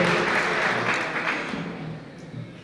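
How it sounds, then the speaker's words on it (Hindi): Audience applause at a kavi sammelan, a Hindi poetry gathering, dense and steady clapping that slowly fades over a few seconds without speech. "आप लोग मेरे सम्मान में भी तालियां बजा सकते हैं।"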